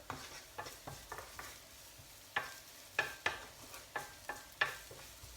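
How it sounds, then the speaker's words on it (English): Beef meatballs and onions sizzle quietly in a frying pan while a utensil scrapes and stirs in repeated short strokes every half second or so. "Sizzling away."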